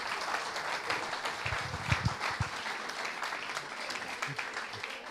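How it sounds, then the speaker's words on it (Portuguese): Applause from a church congregation after a call to praise Jesus, a dense steady wash of many hands clapping at a moderate distance, with faint voices and cheers underneath. "eu acho que nós devíamos dar uma grande salva de palmas a Jesus"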